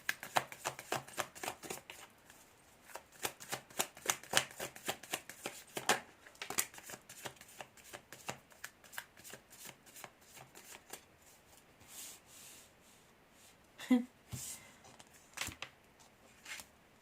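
Tarot cards are shuffled in a fast run of crisp riffling flicks up close, followed by softer intermittent shuffles and card slaps in a quiet room.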